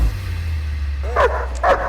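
A dog barks twice, short and somewhat distant, over a constant low engine-like hum.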